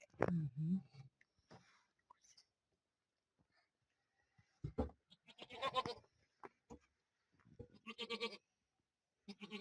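A nanny goat and her two young kids, just brought in from the field, bleat in several short, close bursts separated by quiet gaps, with faint clicks and rustling between calls.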